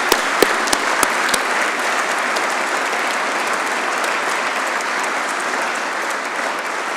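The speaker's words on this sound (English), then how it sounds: "maybe we should give him a round of applause to start off with" Steady audience applause fills a large hall at an engineering awards ceremony, dense and sustained, with a few sharper individual claps standing out near the start.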